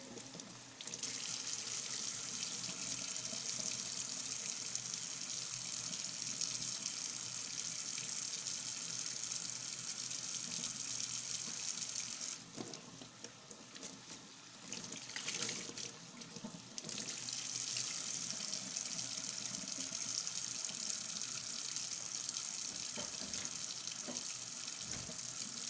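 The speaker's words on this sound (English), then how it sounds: "Alright, let me wash my hands again." Hands are washed under a running kitchen tap, a steady, close rush of water splashing into the sink that briefly thins and drops out midway before the full flow returns.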